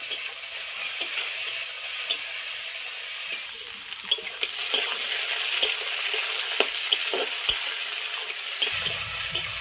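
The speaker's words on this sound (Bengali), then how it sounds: "দেখুন আমি ঢেঁড়সটা কত সুন্দর করে কালো জিরে দিয়ে কাঁচা লঙ্কা দিয়ে ভেজে নিয়েছি" Okra fries in a pan with black cumin and green chilli, a close, steady sizzle punctuated by regular ticking scrapes of a stirring utensil, with no voices.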